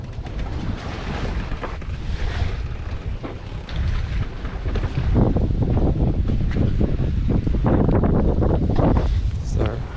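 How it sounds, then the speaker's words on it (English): Steady wind roars across the microphone aboard a trimaran sailing among the Loreto Islands in Baja, with water and hull noise underneath, loud and continuous, strengthening in the second half. "The wind's picked up, maybe 7 or 8 now."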